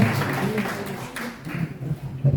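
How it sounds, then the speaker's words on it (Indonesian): Congregation clapping at a church worship service, a brief burst of applause from the crowd mixed with voices. "Berikan tepuk tangan sekali buat kemuliaan Allah"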